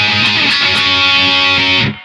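A heavily distorted electric guitar through a tube screamer pedal into a solid-state amp with the boost switched off grinds out a dense, sustained chord, rhythmically picked, then cuts off abruptly.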